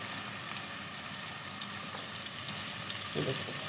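Tomato paste goes into a pan of frying chickpeas, and a soft, continuous sizzle hisses throughout, with a slight liquid splash near the end.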